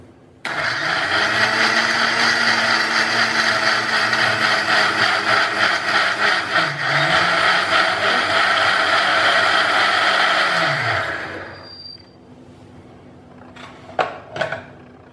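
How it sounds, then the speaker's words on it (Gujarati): Mixer grinder blending peanuts, garlic, onion and tomato with a little water into puree, a loud steady whirring motor with a brief dip in pitch, then winding down, followed by a few clattering knocks of the jar. "આ બધાની મિક્સરમાં પ્યુરી તૈયાર કરી લઈશું"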